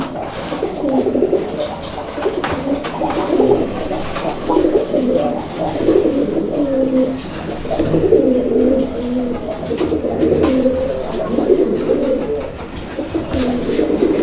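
Male Raj Golla pigeons cooing repeatedly in a loft, several overlapping rolling coos forming a steady, fairly close chorus with no talk.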